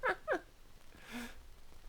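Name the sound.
voice imitating cat noises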